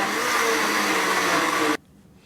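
A countertop blender runs steadily on its cycle, blending a grapefruit and greens smoothie with a loud, dense whir that stops abruptly near the end, leaving near silence.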